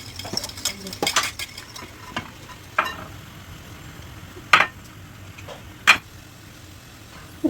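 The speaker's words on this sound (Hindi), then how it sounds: "तो यहाँ बन रही हैं पकौड़ियाँ" Pakoras frying in a home kitchen during Ramadan, with scattered clinks and scrapes of a utensil against the pan over a low, steady sizzle, close and fairly quiet.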